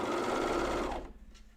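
A Baby Lock coverstitch sewing machine runs steadily on pajama tops, a close, continuous mechanical whir that stops abruptly near the end.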